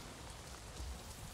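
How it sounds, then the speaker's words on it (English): Soft, steady rain patters on a surface in the video game Avatar: Frontiers of Pandora, quiet and continuous, with a faint low thump partway through. "It's raining."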